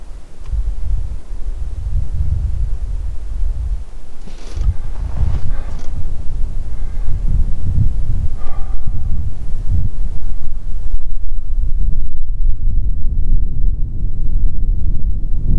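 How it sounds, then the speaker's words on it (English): Strong gusting wind buffets the microphone at an outdoor rifle range where a Carl Axis II .308 is fired at 1000 yards, a loud continuous low rumble with brief faint higher noises and no talk. "It's possible the wind picked up stronger"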